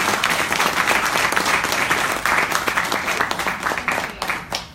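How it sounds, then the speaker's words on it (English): Audience applause at a Zen Project 8 global health presentation: sustained, full clapping from a sizeable crowd, loud and continuous with scattered sharp individual claps. "Big round of applause for Keely."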